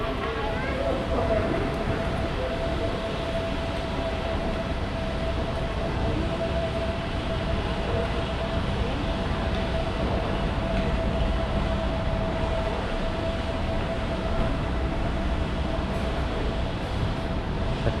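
A train rumbles steadily through busy Hua Lamphong railway station in Bangkok, with a constant high tone running through the noise and faint voices in the background.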